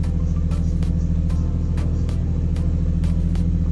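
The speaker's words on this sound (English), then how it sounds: "RPM steady at about 800, ignition angle at 10 degrees just for idle." A Nissan R33 Skyline engine idling steadily at about 800 RPM, a loud, close, even low rumble with a regular pulsing beat and faint periodic ticks over it.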